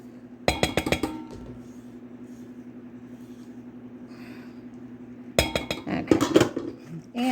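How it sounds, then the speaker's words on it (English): A spoon rattles and scrapes through a bowl of Leprechaun Loot snack mix in two bursts, a short clattering flurry at first and then a longer, louder stretch of jostling pieces, close up over a low steady hum. "I'm just going to stir this around"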